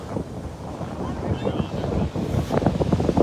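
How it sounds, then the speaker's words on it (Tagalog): Strong waves surging at a beach during a family seaside picnic, a close, rough roar of surf and wind buffeting the microphone, with loud pulses building toward the end. "Malakas ang alon."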